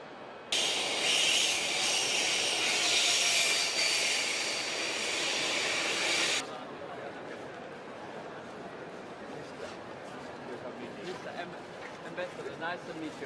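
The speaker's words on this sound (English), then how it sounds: "The train is coming and we are going to the top of the train." A train arrives, opening with a loud, broad rushing roar that holds for several seconds then cuts off, leaving a quieter rumble with voices talking nearby.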